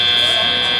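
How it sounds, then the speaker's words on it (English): Electronic buzzer signalling ten seconds left in an FTC robotics match, a single loud, steady, high-pitched tone lasting under a second that cuts off sharply at the end. "cross the line before the 10-second buzzer"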